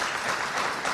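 An audience welcomes Professor Gerosa, a renowned heart surgeon, with a brief, dense wash of steady applause and no voices over it.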